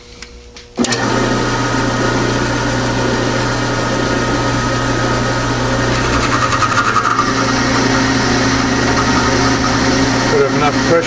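A 9.4 mm tapping drill bores into a steel T-nut on a machine, a loud steady motor whine with grinding cutting noise that starts abruptly and runs continuously, with someone talking over it.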